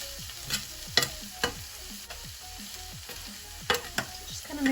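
Chicken and potatoes fry together in a skillet, with a steady low sizzle and several louder scraping clicks as they are stirred and turned. No one talks.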